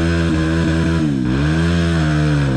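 A motorcycle engine labours up a steep climb, a close, steady droning whine whose pitch sags and wavers under strain, then recovers and climbs again, with no voices.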